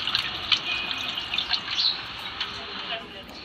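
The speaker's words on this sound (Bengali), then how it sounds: "সবজিগুলো কাটার পর আমি এখন আবারও ভালো মতো সবজিগুলো ধুয়ে নেব" Freshly cut vegetables being rinsed in water at a sink, with trickling, splashing and dripping sounds, light clinks, and steady running water close by.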